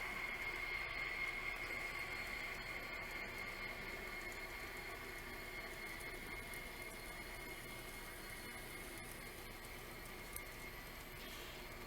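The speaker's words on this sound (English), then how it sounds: "As we're watching this train go by" A small N scale model train rumbles steadily along its layout track at low volume, a continuous clatter with no voices.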